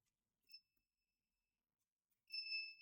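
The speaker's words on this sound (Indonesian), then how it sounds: "untuk buzzer hidup" An electronic buzzer on an ESP-based fire detection and automatic sprinkler board sounds as a steady high tone, with one short chirp first and then a sustained beep of about half a second, faint and alone.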